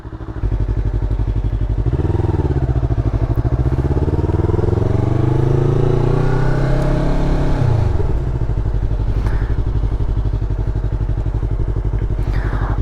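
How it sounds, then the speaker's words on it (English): A Yamaha R3 motorcycle fitted with an Akrapovic slip-on exhaust, ridden close up: a loud, steady engine drone that rises in pitch through the gears, then dips and settles back to a rumbling cruise. "let's go on a little ride and see how it sounds while we're riding."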